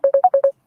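Phone ringtone: five quick, loud electronic beeps in an even rhythm, the third a little higher in pitch, then silence.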